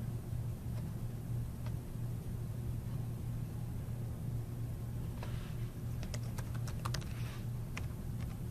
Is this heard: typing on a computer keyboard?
yes